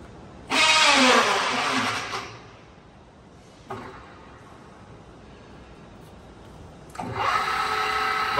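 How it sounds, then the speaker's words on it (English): A Correa F2UE universal milling machine's spindle spins at its top speed of 1800 RPM, a loud, steady mechanical whir with a tonal whine that surges in two bursts, one early and one late, and drops to a quieter running hum between them. "Working a spindle at its maximum speed, that is 1800 RPM."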